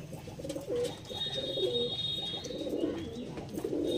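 Pigeons coo repeatedly at a loft where Andhra and Naga breeds are kept, soft low throaty calls overlapping in a steady murmur with some rustling and a higher whine in the background.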